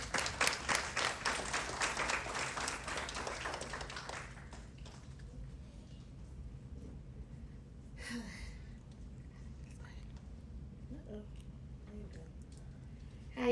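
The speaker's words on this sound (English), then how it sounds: "With a round of applause, please join me in welcoming Tide Nicole" Audience applause welcoming a speaker at an investor showcase, loud dense clapping for about four seconds that then fades into quiet room tone with faint shuffles.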